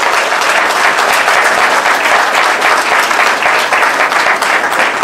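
A hall audience applauds without pause at a felicitation ceremony for the best students, a loud, dense and even wash of many hands clapping.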